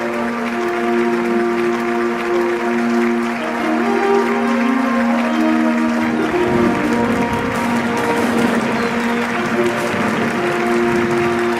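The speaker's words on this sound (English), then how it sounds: "We would like to begin today's peace festival with a warm round of" A crowd at a peace festival breaks into a long, dense round of applause that keeps going evenly at a loud, close level, with a sustained tonal hum running underneath and no talking.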